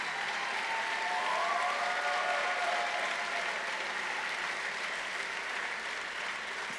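Sustained audience applause fills a celebration hall as a new leader is welcomed, a dense, steady wash of clapping at even volume that holds for the whole stretch with no voices.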